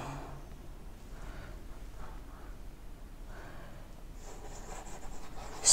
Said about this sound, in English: here I am writing here